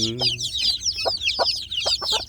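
Native village chicks in a brooder box at feeding time, peeping in a steady high chatter with a few louder bursts of clucking, close and continuous.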